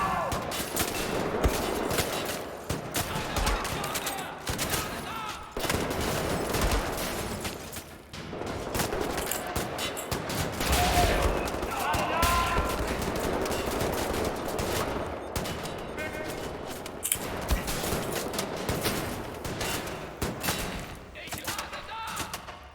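Bursts of gunfire, including a shotgun-wielding enemy, in the video game Wolfenstein: The New Order, dense and repeated in clusters over game noise and occasional voice.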